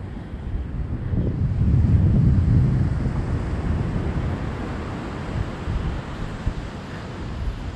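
Night wind blows across the beach at Cape Lookout, a steady, broad rush with soft surf-like swells, gusting stronger early on and then settling into a constant breezy hiss.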